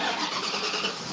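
A junkyard car engine cranks and catches, running with a steady mid-range roar throughout, fairly loud and close.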